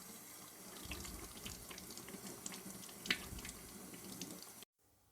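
Tap water runs steadily into a sink while hands are washed with aloe vera soap, a soft continuous splashing with small rubbing sounds, ending abruptly.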